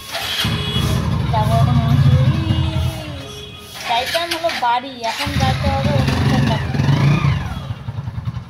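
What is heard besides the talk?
motorcycle engine starting and revving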